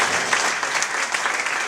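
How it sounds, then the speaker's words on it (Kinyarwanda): A church congregation claps together in dense, continuous applause, loud and close, with no voices. "Dukomera amashyi umwami Yesu"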